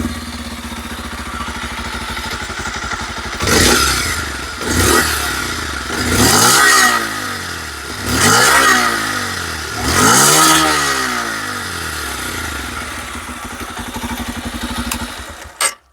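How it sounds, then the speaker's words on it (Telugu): A Bajaj Pulsar 125 Neon Edition motorcycle idles, then its exhaust barks through five sharp throttle blips spaced a couple of seconds apart, each rev rising and falling back to a steady idle, close and loud with no talking. "పల్సర్ 125 ఒక ఎగ్జాస్ట్ నోట్ అయితే వినిపిస్తాను."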